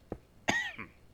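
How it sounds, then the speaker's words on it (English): Two close coughs from a person, a short dull one followed by a louder rasping cough with a throat-clearing tail, alone in a quiet room. "I still had to cough."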